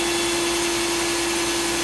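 Power drill boring into a 4x4 actuator valve on a 1990 Jeep Wrangler, a loud, steady motor whine with a constant hum and no pauses throughout.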